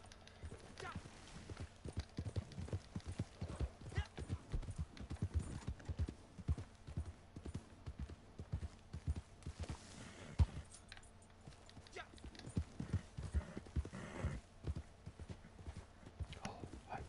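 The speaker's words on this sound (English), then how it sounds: "Get on the fucking horse." Horse hooves clip-clopping at a steady gallop in the open-world game Red Dead Online, loud and rhythmic throughout, with someone talking intermittently over the hoofbeats.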